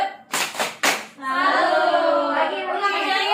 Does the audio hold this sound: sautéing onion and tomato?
no